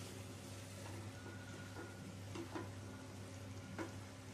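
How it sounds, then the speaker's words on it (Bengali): Mixed vegetable bhuna with kasuri methi powder being stirred in a pan, dhaba style: a faint steady sizzle with a steady low hum and a few soft utensil scrapes, no one talking. "নেড়ে ছেড়ে নিচ্ছি।"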